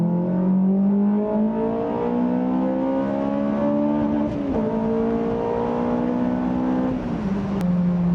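A 2000 Honda S2000 AP1 pulls hard from 30 to 70 mph. The loud, continuous engine note climbs steadily, broken by two brief dips at the gear changes, with no talk over it.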